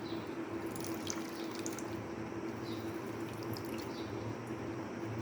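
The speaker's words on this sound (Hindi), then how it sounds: "ये जी तमाम पानी आपने अच्छे तरीके से प्याज का निचोड़ लेना है" Water drains out as chopped onions are wrung through a muslin cloth, making a steady, close trickle with light dripping for several seconds and no voices.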